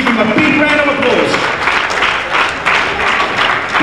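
Crowd applause at a powerlifting nationals meet after a close press attempt, dense clapping sustained throughout while an announcer's voice carries over it.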